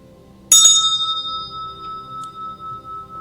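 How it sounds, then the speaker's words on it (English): A meditation bell is struck once, a bright clear strike that leaves a long sustained ring slowly fading with gentle beating pulses, alone in a quiet room. "Soon the bell will sound."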